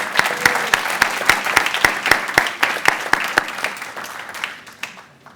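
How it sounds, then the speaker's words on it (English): An audience at a summer celebration for UX design and internship graduates claps in steady, sharp applause that gradually thins and fades out near the end. "Clap it up for them."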